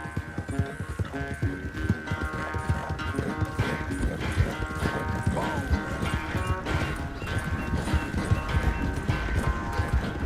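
Horse hooves clip-clopping at a brisk, steady rhythm in Red Dead Redemption 2, close and loud with a constant beat throughout, alongside occasional tack jingles and a low rumble of other riders.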